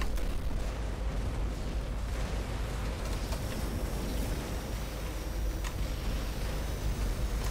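A dark matter bomb detonates in the X-Morph Defense video game, a dense, sustained low rumble of explosions with scattered crackling bursts, loud and continuous with no speech.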